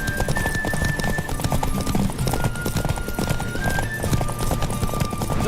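A horse gallops in The Witcher 3: Wild Hunt, its hooves beating a steady, loud clip-clop over a busy game soundscape, with a whinny rising partway through.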